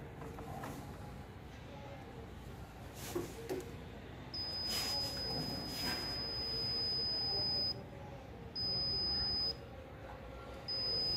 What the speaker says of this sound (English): the beep sound, the alert will be switched off from this angle